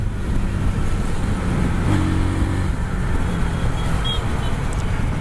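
A motorcycle in third gear accelerates with a loud, continuous engine roar mixed with wind rush, building steadily throughout, heard up close with no talking.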